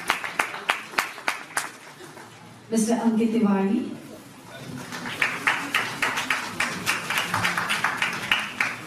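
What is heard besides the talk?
audience applause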